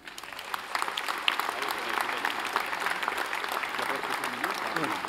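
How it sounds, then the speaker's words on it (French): Sustained, even applause fills a hall at a municipal New Year greetings ceremony in Courcouronnes, honoring the Essonne firefighters, with a few voices faintly audible under the clapping. "que je vous remercie également d'applaudir"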